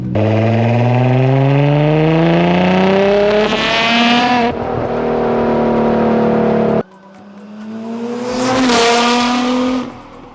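A Nissan R35 GT-R NISMO GT3 race car accelerates hard, its engine note climbing through the gears with sharp shifts, then fading and surging again as it passes close by, loud and alone.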